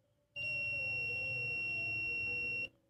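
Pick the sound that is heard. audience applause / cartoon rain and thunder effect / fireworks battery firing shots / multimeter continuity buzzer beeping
multimeter continuity buzzer beeping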